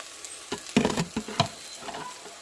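Chopped onion with salt frying in a pan, a few soft sizzling bursts and stirring scrapes spaced out over a quiet hiss, close by and fairly faint.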